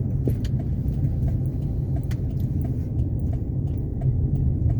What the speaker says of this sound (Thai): ผมขับไม่เร็วมากใช้เวลาแค่ ใช้ความไวแค่ประมาณ 60กิโลเมตร 60 70กิโลเมตรต่อชั่วโมงนะครับ